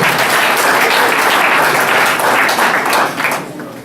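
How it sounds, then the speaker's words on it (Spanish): An audience at a book presentation breaks into sustained, dense applause, loud and even throughout before easing slightly at the end. "Fuertes palmas."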